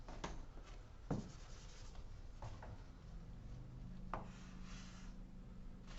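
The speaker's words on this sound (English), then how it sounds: "let's draw a little gas pump here with its display" A marker scratching across a drawing surface as a small gas pump is sketched, with soft intermittent strokes and rubs, faint and close.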